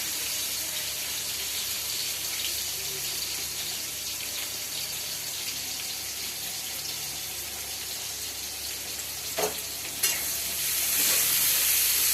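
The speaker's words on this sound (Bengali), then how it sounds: "তো সব দিয়ে একবার ফ্রাই করব।" Chopped onion and other ingredients fry in a pan with a steady, close sizzle, broken near the end by a couple of sharp stirring clatters and a louder hiss.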